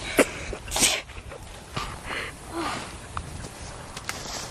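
A person sneezes sharply a couple of times, close and fairly loud, with soft rustling and movement noise in between.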